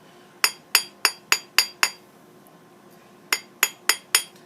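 Hammering a small metal brooch, with six sharp ringing strikes in a steady rhythm, a pause, then four more. The blows are close and clear against a quiet background.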